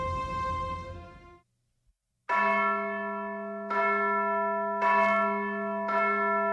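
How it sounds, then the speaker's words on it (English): A church bell sound effect for a tabletop role-playing game rings loud and close with long resonant tones, one fading stroke, a short silence, then four more strokes in a steady sequence. "A bell is ringing, and you hear a rustle of horses and men."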